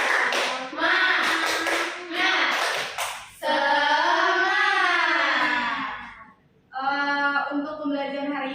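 A class of children does a rhythmic spirit clap, sharp hand claps and taps in quick bursts near the start, followed by the children chanting together in sustained voices.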